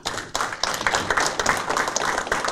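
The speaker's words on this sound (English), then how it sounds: "A big round of applause." Conference audience at an Indian semiconductor industry conclave breaks into applause, a dense, steady wash of many hands clapping close by and sustained across the moment.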